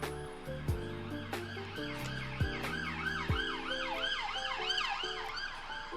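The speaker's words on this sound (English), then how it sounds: "the sirens are going to be really loud because I have my window open" Emergency vehicle sirens wailing outside through an open window, several overlapping tones sweeping up and down in a continuous cycle, moderately distant, with a few sharp knocks nearby and no one speaking.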